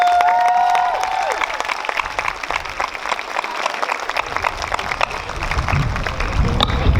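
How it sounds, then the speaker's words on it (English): Steady applause fills a high school graduation ceremony, a dense crowd clapping loudly, with a few brief whistles at the start and cheering that continues to the end. "Let's give another round of applause for our salutatorian and valedictorian."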